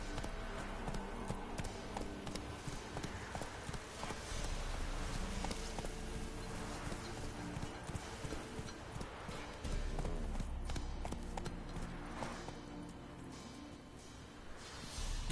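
Horse hooves clip-clop at a gallop in The Witcher video game, a rapid, continuous drumming of hoofbeats close by, steady and loud for the whole stretch with no speech.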